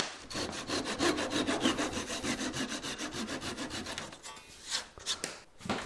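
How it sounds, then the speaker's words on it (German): A hand saw cuts wooden dowels flush on an old entrance gate from 1890, steady rhythmic rasping strokes close up for about four seconds, then a few slower, scattered strokes near the end. "Diese Dübel schneide ich jetzt alle so weg."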